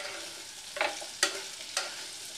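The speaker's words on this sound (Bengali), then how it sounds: "দু মিনিট পর ঢাকনা খুলছি, নেড়ে দেবো" Vegetables for moong dal stirred in a pan, with three separate scraping strokes of a spatula over a soft, steady background hiss.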